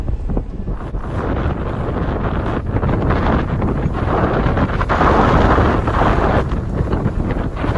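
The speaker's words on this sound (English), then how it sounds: "It's windy." Loud wind buffets the microphone throughout, a roaring, gusty rumble that swells stronger near the middle.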